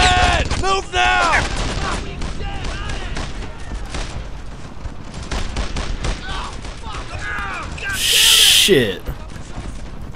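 Gunfire in the World War II shooter game Brothers In Arms: Earned In Blood, bursts of rifle and machine-gun fire mixed with shouted squad voices and a sharp loud burst near the end.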